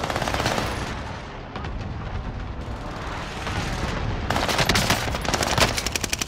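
Dense, sustained automatic gunfire and battle noise from Call of Duty: Modern Warfare roar loudly and continuously, with rapid rattling bursts intensifying toward the end.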